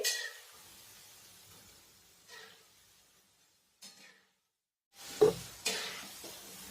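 Onion bhaji, spiced with red chilli, frying in oil: soft sizzling hiss in brief, uneven bursts with stirring and a light clink, fairly quiet with no voices.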